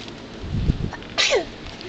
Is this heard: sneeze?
yes